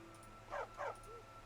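Dog in Skyrim giving two short high whimpering yips in quick succession, faint and close, over a quiet background hum.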